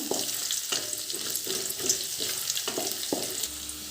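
Chopped ginger and garlic frying in a pan over mustard seeds and cumin, a steady bright sizzle with a few soft stirring scrapes throughout, fairly close and uninterrupted by talk.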